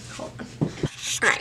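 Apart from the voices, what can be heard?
dog barking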